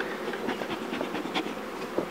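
Honey bees at a log-hive honey harvest in a flower-rich forest at Korualan (Gezlevi): a continuous close buzzing hum, with individual bees swelling louder as they pass near, and no voices.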